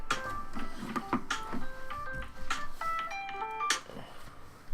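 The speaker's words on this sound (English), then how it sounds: "Phone's ringing." A phone rings with a series of melodic electronic tones, bright stepped notes repeating across the clip during a Hearthstone solo adventure match, with game sounds around it.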